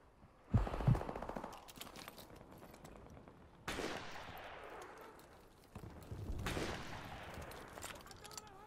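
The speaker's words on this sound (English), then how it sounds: "Here's sniper shots." Three loud, booming sniper rifle shots in the shooter game Modern Warfare Remastered, each spaced a few seconds apart and trailing off in a long echoing decay.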